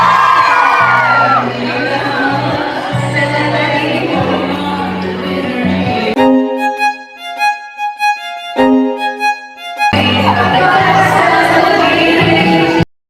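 Fans scream and cheer in a loud crowd, with a sustained roar of shrill voices and whoops that drops out briefly in the middle while music plays, then surges back.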